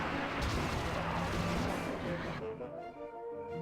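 Spilled turpentine and acetone explode in the video game Psychonauts, a loud sustained blast and rumble that cuts off abruptly into a quieter tonal passage.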